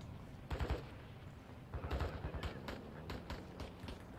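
Video game gunfire near a mall, quiet and somewhat distant: a short double burst, a longer rattling volley, then scattered single shots spread over four seconds, no talking.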